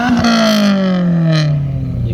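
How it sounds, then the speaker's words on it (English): A car engine revs up loudly and then winds down, its pitch sliding steadily lower over about two seconds, close and alone with no talking. "Give it a rev."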